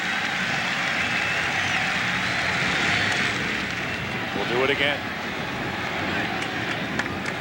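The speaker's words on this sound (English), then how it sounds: "Let's listen to this big Yankee Stadium crowd." A big Yankee Stadium crowd at a 2000 Mets–Yankees interleague baseball game makes a steady, dense roar that swells slightly, with a broadcaster's voice briefly heard over it.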